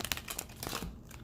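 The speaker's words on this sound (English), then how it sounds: "they're kind of hard to shuffle because they're so thick" Thick, stiff cardstock tarot cards from a True Black deck being shuffled, a close, dry crinkling and riffling patter of card edges that comes in uneven bursts and then thins out.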